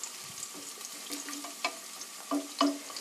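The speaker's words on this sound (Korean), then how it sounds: "마늘이 노릇노릇하게 색깔이 날 때까지 익혀주세요." Garlic slices frying in oil until golden for sweet garlic chicken, a soft, quiet sizzle with scattered pops and light stirring clinks, and no voices.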